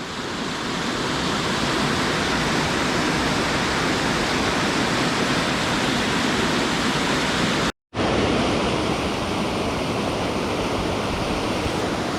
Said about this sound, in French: Très belle cascade.